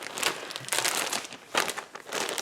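Small plastic bag holding 2.5-inch fabric squares being handled, crinkling in several close, soft bursts with short pauses between them.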